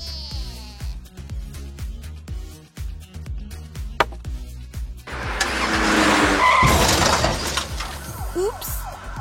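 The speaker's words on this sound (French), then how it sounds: "Tu peux jouer avec ta voiture télécommandée" A toy remote-control car drives close by with a rapid, rhythmic ticking whir. A louder burst of skidding, rushing noise follows midway, and no voices are heard.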